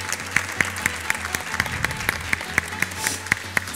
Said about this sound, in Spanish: Y le damos el aplauso a Maiti.